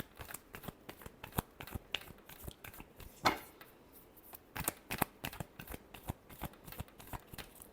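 Tarot cards being shuffled by hand in a rapid series of crisp riffling snaps and flutters, close and fairly quiet with no talk.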